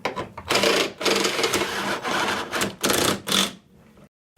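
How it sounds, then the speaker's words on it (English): A very old Black & Decker electric drill whirs in several short bursts, starting and stopping in a rough rhythm, close by, then cuts out into silence. "Mention this drill's like really old."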